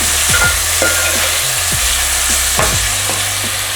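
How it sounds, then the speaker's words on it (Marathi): Tomatoes being stirred into frying masala for restaurant-style chicken biryani, a loud, close, constant sizzle with repeated rhythmic scraping strokes of the spoon across the pan, no speech. "आता आपण घालणार टोमॅटो मिक्स करून घ्यायचं"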